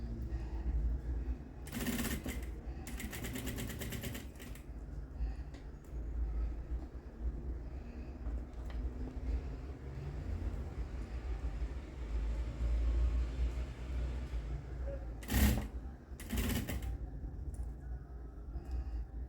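A sewing machine runs steadily while stitching the fly of tailored shorts, with a continuous close mechanical whir and a few brief louder bursts as the stitching changes.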